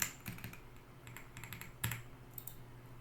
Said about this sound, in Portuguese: Vamos digitar a placa.